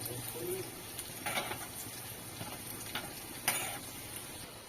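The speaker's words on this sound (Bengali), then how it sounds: "ফোড়নটা ভাজা হচ্ছে একটুখানি ভাজা হবে" Garlic and spices sizzle gently in hot oil in a pan during tempering for a dal, a steady low frying hiss with occasional stirring scrapes and faint bird cooing in the background.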